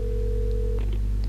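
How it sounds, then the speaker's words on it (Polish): A telephone in the video game Alan Wake gives a single short, steady electronic ring tone that cuts off partway through, faint over a low background hum. "telefon!"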